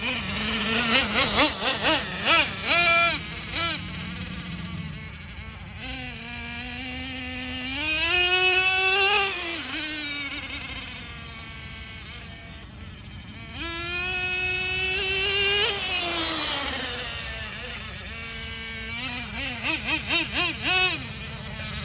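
Small Traxxas 4-Tec RC car with a 3.3 nitro engine, running with a high buzzing whine that rises and falls as the throttle revs and eases, with short bursts, held alone without talk.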